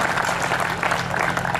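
An audience at a poetry recital applauds in a dense, close burst of clapping that fills the short stretch without pause.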